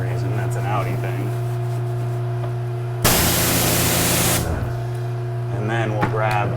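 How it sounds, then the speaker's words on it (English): A burst of spray hisses loudly for about a second and a half as leftover wheel cleaner is sprayed onto the felt fender liner of an Audi R8, set against steady background hum, with faint voices before and after. "I'll usually use the leftover wheel cleaner and just get in the beloved Audi felt, which they put inside the fender liners"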